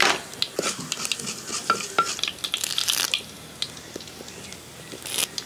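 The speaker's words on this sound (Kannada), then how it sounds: "ಸ್ಪೆಷಲ್ ಮಸಾಲೆ ಒಗ್ಗರಣೆ, ಸ್ವಲ್ಪ ತೆಂಗಿನೆಣ್ಣೆ, ಎಣ್ಣೆ ಬಿಸಿಯಾದ ಕೂಡಲೇ ಸಾಸಿವೆ, ಸ್ವಲ್ಪ ಎರಡು ತುಂಡು ಮೆಣಸು," Mustard seeds, two pieces of chilli and urad dal fry in hot coconut oil for a tempering, giving close crackles and light sizzling with scattered sharp pops and clinks of a spoon stirring the pan.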